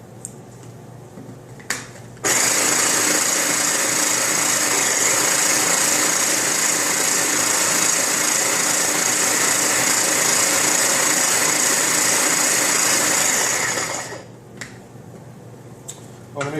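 A food processor pulses rockfish mousseline in a steady, loud, continuous whir lasting about twelve seconds, with quiet kitchen handling before and after.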